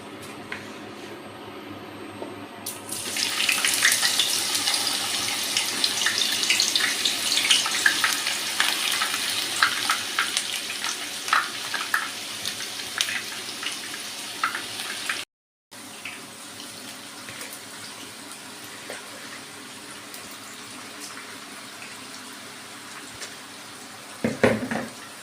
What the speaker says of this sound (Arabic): نبداو دروك بسم الله نحطوا الباذنجان تاعنا في الزيت